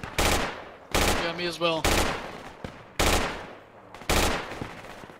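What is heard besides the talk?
gunfire from the Project Reality video game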